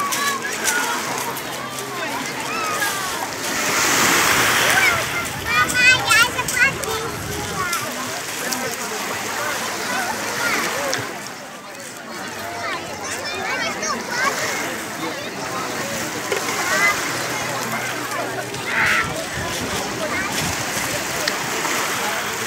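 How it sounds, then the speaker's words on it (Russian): Sea waves splash and slosh at Lazarevskoye beach on the Black Sea, rising and falling close by, with people talking over the water. "хоть на волнах немножко покатаемся"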